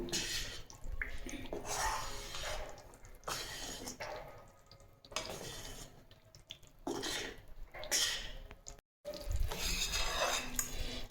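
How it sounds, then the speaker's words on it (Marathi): Urad dal flour roasting in ghee over low heat in a pan, stirred with steady scraping and soft swishing strokes that come in bursts with short pauses, close and fairly quiet, with no talking. "आता बारीक गॅसवर मी हे तूप पीठ छान भाजून घेते"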